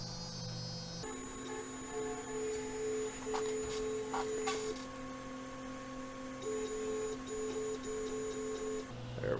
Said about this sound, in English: we'll lower the head down here just a little bit so y'all can see me pull it out